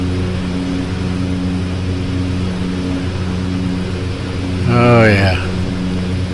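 OV-10 Bronco propeller aircraft in the DCS flight simulator making a low flyover, a steady engine and propeller drone with harmonic tones throughout and a brief rise near the end as a voice speaks over it.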